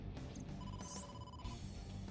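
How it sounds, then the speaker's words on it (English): A phone rings in the AI: The Somnium Files video game, a tonal ringtone pattern repeating over a steady game background, fairly quiet with no talking. "Incoming phone call"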